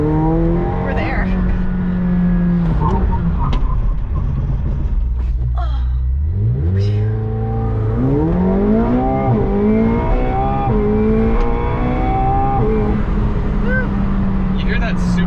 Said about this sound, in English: You hear that super high-pitched ringing sound near that when it shifts?